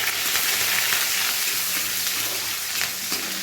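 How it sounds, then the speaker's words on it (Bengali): Chopped ginger and green chili frying in hot oil in a wok, a steady close crackling sizzle that runs continuously with no voices. "এখন আমি আদা কুচি আর লঙ্কা কুচিটা দিয়ে দিই।"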